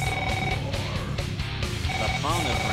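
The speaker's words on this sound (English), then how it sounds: "The phone is ringing." A telephone rings inside a Beavis and Butthead video game, repeated electronic ring bursts pulsing at a steady rhythm beneath game voices and chatter, ending with a short warbling tone.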